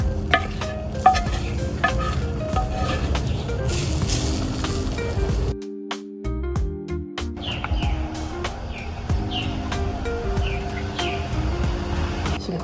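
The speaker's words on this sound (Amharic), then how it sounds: "አሁን የቶፉን እዚህ ላይ ጠበስ አደርገዋለሁ በደንብ።" Seasoned tofu frying in a pan with a small amount of oil, a steady crackling sizzle broken by clinks and scrapes of stirring, with a brief quiet gap midway.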